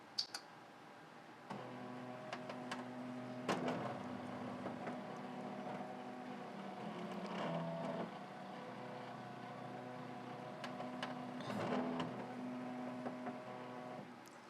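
A home embroidery machine traces a design outline on stabilizer for quilting, giving a steady mechanical whir with stepped tonal hum and periodic clicks and taps throughout.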